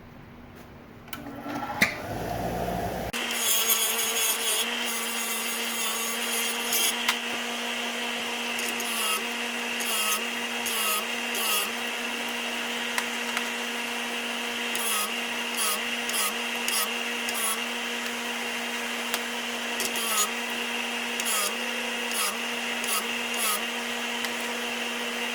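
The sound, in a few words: wire wheel on a grinder cleaning attaching hardware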